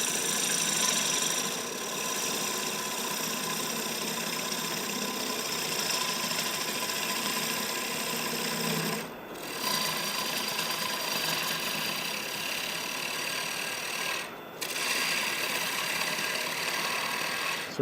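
A wood lathe turns a dry wood bowl with a steady, close whirring drone and no voices, briefly dipping twice as the tool catches and eases off the wood.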